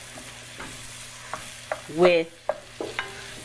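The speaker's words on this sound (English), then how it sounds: "So I'm just going to keep stirring this and continue breaking this up" A spoon stirs and breaks up turkey chili in a pot, with repeated scraping clacks against the pot and one louder, longer scrape in the middle over a soft simmer, plus a single brief spoken word.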